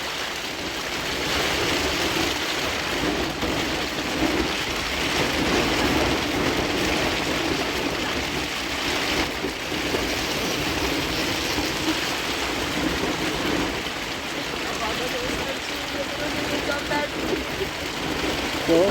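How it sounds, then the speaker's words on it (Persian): Heavy rain pours during a snowstorm, a dense and steady roaring hiss that stays loud and unbroken throughout. "بارون خیلی شدیدیه."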